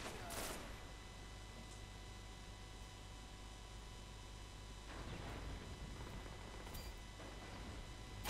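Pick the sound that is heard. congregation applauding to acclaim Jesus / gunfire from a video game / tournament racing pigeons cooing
gunfire from a video game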